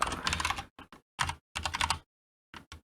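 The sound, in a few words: typing on a computer keyboard in a terminal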